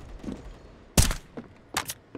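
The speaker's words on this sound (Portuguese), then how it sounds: "Flashbang." A flashbang grenade goes off in a Counter-Strike match as a sharp, loud burst, followed by a second smaller blast and a few faint thuds around it.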